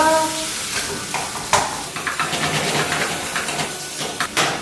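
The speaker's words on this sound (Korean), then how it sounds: "고기가 어느 정도 볶아졌으면 여기에 청주 한 큰술, 간장 한 큰술을 넣어서 볶아주겠습니다" Meat stir-fried in a hot pan with rice wine and soy sauce, crackling and hissing loudly while a utensil scrapes and clatters in uneven bursts.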